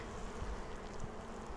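Honey bees buzz in a dense, continuous drone around an open Flow Hive, close and steady with no voices.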